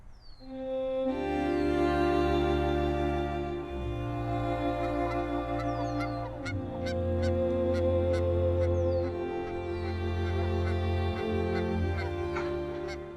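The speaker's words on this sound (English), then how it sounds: "This female Canada Goose is just rearranging things, making her nest the way she wants it." Canada geese honk repeatedly near a nest by the water, loud and close, with overlapping nasal calls and a few sharp clicks and bursts layered over a steady low rumble.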